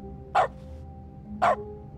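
A dog in The Stanley Parable video game barks twice, about a second apart. Each bark is short, sharp and mid-pitched over a faint steady background hum.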